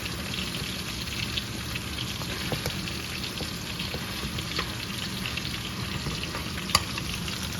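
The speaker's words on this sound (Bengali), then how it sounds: "আর এইদিকে কই মাছ বোনা হচ্ছে" Koi fish fry in a pan with a steady, even sizzle and soft bubbling crackle, continuous and close, broken by a single sharp click near the end.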